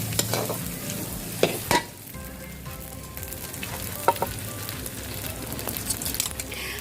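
Steady sizzling and frying from a hot wok as chicken noodles are stir-fried, with occasional clanks and scrapes of a utensil stirring food.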